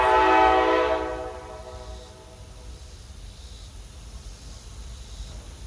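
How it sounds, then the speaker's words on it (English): A loud, sustained train horn blast with rich stacked tones fades after about a second, leaving low rumbling rail noise in the background near a garden. "My train's coming through, so if you hear another big blow, it's just the train."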